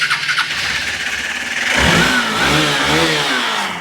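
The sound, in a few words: motorcycle engine running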